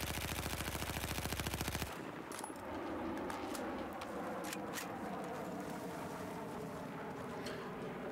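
Rapid full-auto weapon fire from the video game Battlefield 4 rattles loudly for about two seconds, then cuts off into a steady, softer ambient rumble of in-game background noise.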